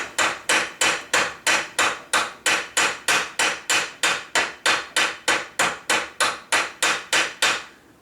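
A small narrow rounded cross peen hammer striking a tiny gun part in a gunsmith's shop: about twenty sharp, loud metallic blows at a steady, even rhythm, close and alone.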